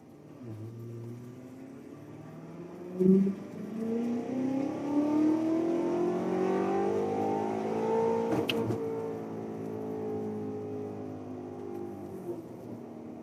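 Modified, built BMW X6M under a full-throttle acceleration pull, engine note rising steadily in pitch through the gears with a loud, continuous roar and a brief sharp pop early on.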